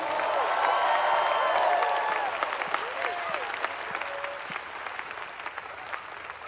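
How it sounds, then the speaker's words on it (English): A church congregation claps and cheers together during a lively worship service, loud dense applause that slowly thins out, with scattered voices and shouts rising over it. "Clap your hands and rejoice."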